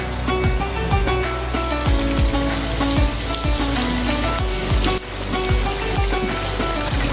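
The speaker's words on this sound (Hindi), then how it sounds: "अब मैं इसमें रोल डाल दूंगी, वो फ्राई कर लूंगी।" Spring rolls frying in hot oil, a loud, continuous close sizzle with dense crackling and popping that never lets up.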